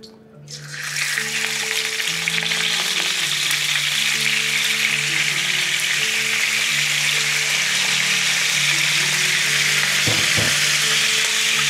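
Galunggong fish frying in hot oil, a loud, steady crackling sizzle that starts after a brief quiet moment and continues without a break, with a faint clatter near the end.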